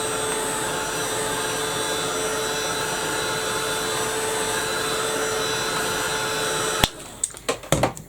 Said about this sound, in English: I'll just give it a quick blast with the heat gun